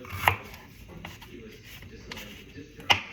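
A knife chops vegetables on a cutting board in a quiet kitchen, two sharp isolated knocks about two and a half seconds apart with soft shuffling in between.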